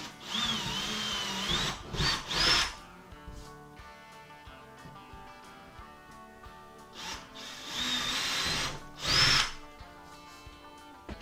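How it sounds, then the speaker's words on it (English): A power drill whirs in several bursts, boring a 1/2-inch hole into a wall for toggle bolts, with short pauses between runs and one last longer push near the end. "we have to drill a 1/2 inch hole for those toggle bolts"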